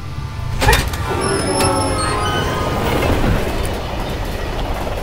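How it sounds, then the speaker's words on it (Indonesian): Loud rumbling train passing in the video game Resident Evil 6, with rhythmic clickety-clack of wheels on rails and brief metallic squeals, sustained close by throughout. "Ada kereta."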